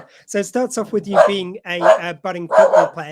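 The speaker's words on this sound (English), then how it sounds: "Pardon for the dogs in the background." Dogs bark in the background while someone talks steadily in an interview, and the yips and barks come and go under his voice.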